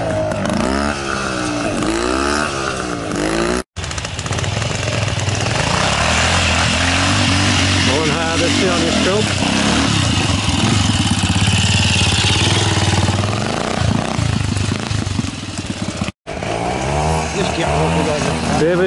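Bantam trials motorcycle with Pogo forks revving at a classic pre-unit trials event, a close buzzing two-stroke engine rising and falling repeatedly while someone talks over it.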